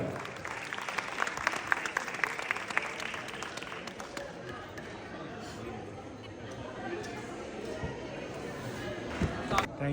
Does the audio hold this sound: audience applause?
yes